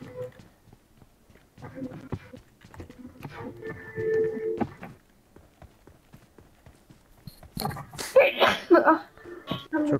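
A single abrupt sneeze bursts out near the end during a PUBG Mobile live stream, loud and close to the mic, following stretches of casual chatter and quiet game noise.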